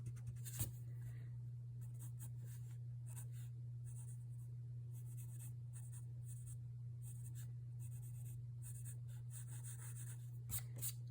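Pencil drawing a still life object on paper, soft scratchy strokes in short irregular bursts over a steady low hum, close and faint.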